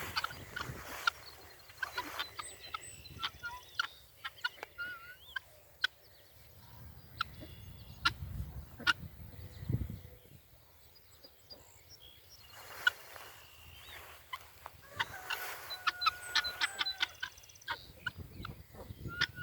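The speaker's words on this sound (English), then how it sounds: "You can see the guineas. They're always up to something." Guinea fowl calling around a movable grazing pen beside broiler chickens, with scattered sharp chattering and clicking cries, some close and some farther off, in quiet outdoor air.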